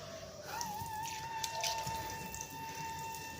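Water splashes and drips close by as a face is being washed, a steady wet patter with a faint, thin tonal whistle running through the background.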